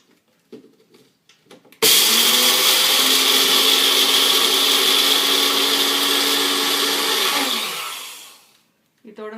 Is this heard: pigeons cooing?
no